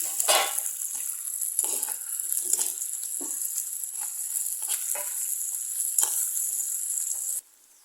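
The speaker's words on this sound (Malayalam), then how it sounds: "ഒരു നാലഞ്ച് ഉള്ളി വെളുത്തുള്ളി ഒരു രണ്ട് കതിർപ്പ് കറിവേപ്പിലയും കൂടി കുറച്ച് ഉപ്പിട്ട് കൊടുക്കാം വേഗം വഴന്ന് കിട്ടാൻ നന്നായിട്ടൊന്ന് വഴറ്റാം" Onion, garlic and curry leaves sautéing with salt in a pan, a steady hiss of frying broken by repeated spoon stirs and scrapes, close up, ending abruptly near the end, no speech.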